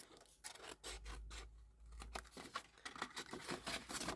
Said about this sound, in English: all these can then be cut up to the score line